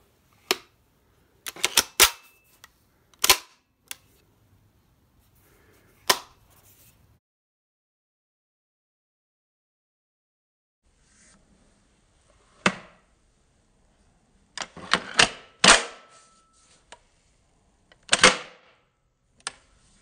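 Handling an M3 grease gun submachine gun, sharp metallic clicks and clacks spaced out over about twenty seconds, clustered in quick pairs and groups with long quiet gaps between, close and crisp.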